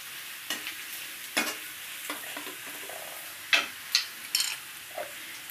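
Spices being mixed into a pumpkin and chickpea curry in a pan: a few distinct scraping stirs with light sizzling between them, close and fairly quiet, with no talking.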